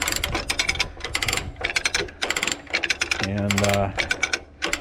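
A hand ratchet clicks in quick rapid bursts, close and loud, as it pulls a used Holland FW35 fifth wheel into place on a semi, with a brief low grinding strain between bursts and a single spoken word.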